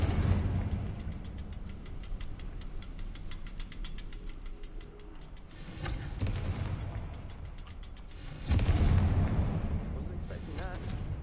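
A Confringo fire spell explodes in Hogwarts Legacy, with two heavy, booming blasts a few seconds apart, each bursting loudly and then rumbling away, over a steady din of game sound.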